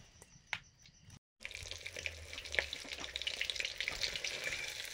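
Prawns sizzle in hot oil in a kadai for prawn pakora, a soft steady frying hiss that starts after a short clatter and a brief silence, then carries on with crackles.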